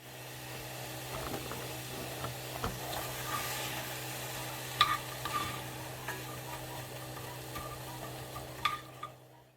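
Onions and peppers fry on the flat cooking surface of a Louisiana Grill with a soft, continuous sizzle, broken by occasional sharp clicks of a utensil stirring and scraping, close and fairly quiet, with a low steady hum underneath.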